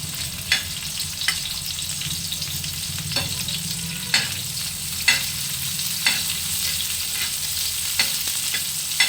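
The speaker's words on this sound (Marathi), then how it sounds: "कांदा चांगला परतून घ्यायचा, लसूण कांदा." Onion and garlic sauté in a pan with a steady close sizzle, broken by regular scraping stirs of a utensil, with no talk.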